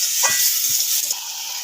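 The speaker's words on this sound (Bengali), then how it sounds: "জলটা দিয়ে আর একটু মশলাটা কষে নেবো।" Spice paste cooking with coconut and water in a pan gives a loud steady hiss and sizzle, broken by a few soft stirring scrapes, with no voices.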